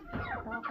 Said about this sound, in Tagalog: Mayroon ng mga manok talaga.